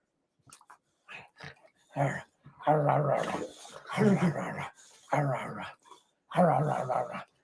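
Dog barks mixed with speech-like bursts, several loud vocal outbursts in an uneven rhythm, close and prominent, with people talking around them.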